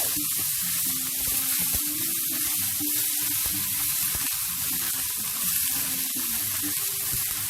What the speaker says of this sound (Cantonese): 用翻呢個蝦油啦，爆下我哋蒜頭、薑同埋紅葱頭。